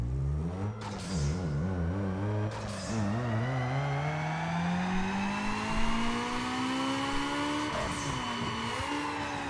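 A Hyundai Tiburon 2.7L V6 on a dyno in Need for Speed Underground 2 revs hard, its engine note climbing steadily through a long pull with brief dips at gear changes, loud and continuous without talking.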